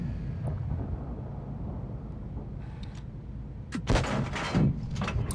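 Alecto tank cannon firing in a video game, heard as a sharp, loud blast followed by a second booming burst a moment later, over a steady low rumble of engine and battlefield noise.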